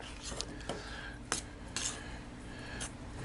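A spoon scrapes and clinks against a bowl while dry blue crab stuffing is mixed, with sharp metallic taps at irregular intervals over a soft, steady scraping.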